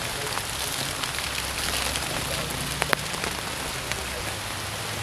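Rain falls at night in a steady dense hiss with a few sharper drop ticks, moderately loud and unbroken throughout, with no clear voices.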